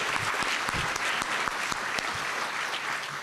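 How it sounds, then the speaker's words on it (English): An audience claps together at a youth recognition awards night, a dense, sustained round of applause with sharp individual claps standing out. "Let's give him one more round of applause."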